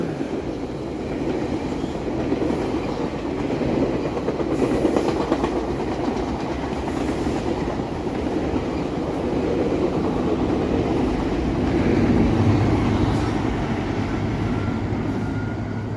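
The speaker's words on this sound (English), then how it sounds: "Maybe we'll see another train." A train rumbles past in Toronto with a continuous heavy roar and faint clacking of wheels, steady and fairly close throughout.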